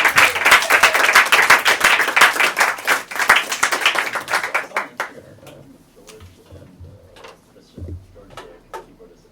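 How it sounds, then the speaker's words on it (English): A small group of listeners claps for a former Berklee College of Music student, a dense burst of clapping for about five seconds that thins to a few scattered claps and handling noises, with some talk. "Let me clap it up for you."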